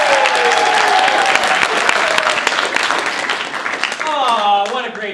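Theatre audience at the Orpheum applauding Ralph after a comedy spelling-bee bit, dense sustained clapping with cheers and voices mixed in, fading slightly before a performer's voice rises at the end.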